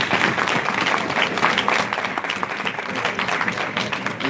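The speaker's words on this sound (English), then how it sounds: "Can we applaud for that?" An audience at an annual association conference gives a warm, sustained round of applause, many hands clapping in a thick, even wash that fills the hall without pause.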